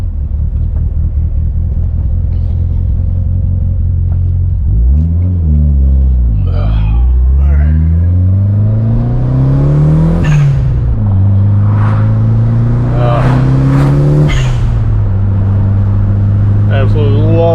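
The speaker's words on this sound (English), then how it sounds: "love that sound of this car." A modified Mitsubishi Eclipse GSX engine, not yet warmed up, idles with a deep rumble, then revs several times, pitch climbing and falling with each blip, loud and close.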